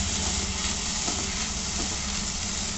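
Soy sauce hitting a hot pan while fried rice is cooked for a chicken sizzler platter, giving a steady, dense sizzle and frying hiss that continues evenly and alone throughout.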